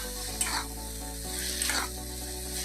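Bottle gourd posto fries in a pan, giving a steady sizzle broken by a few louder scraping stirs near the cook.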